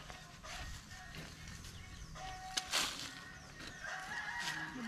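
Chickens around a rural yard give scattered clucks and a few brief honk-like calls, fairly faint against background rustle and a quiet distant ambience.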